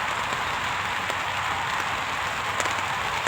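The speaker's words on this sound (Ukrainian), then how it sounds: "дощ усилюється, усилюється" Steady rain pouring down in Bulgaria, a dense continuous hiss of drops on surfaces with a few louder patters, no voices.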